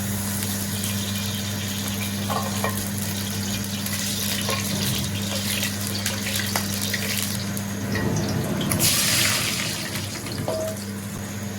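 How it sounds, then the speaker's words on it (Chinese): Tap water runs steadily into a cooking pot to boil noodles in a home kitchen, a continuous close hiss and splash that thickens into a louder gush near the end, with no speech. "添点水下面"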